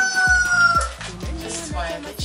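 Chickens cluck and a rooster crows close by, loud and busy, with repeated short calls layered over one another.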